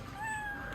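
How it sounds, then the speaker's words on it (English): A children's sound book plays a brief cat meow, a single electronic-sounding mew that is fairly faint over background hiss. "Cat."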